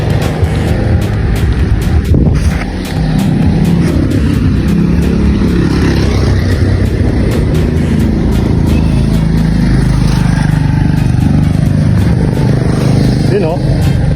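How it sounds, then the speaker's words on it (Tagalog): A motorbike passes close by with a loud, rough engine roar, heard over heavy road and wind noise while people talk nearby. "Bike."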